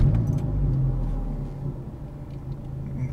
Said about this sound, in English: Already a lot more sound coming from the engine bay.